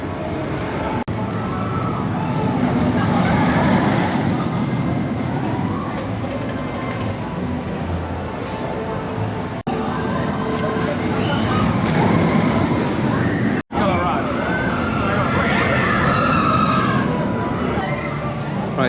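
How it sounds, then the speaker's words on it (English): Rake, a Vekoma boomerang roller coaster at Phantasialand, roaring and rattling along its track in a long loud continuous rumble, with riders' shrieks mixed in. "we've just had a ride on Rake, the Colma Boomerang"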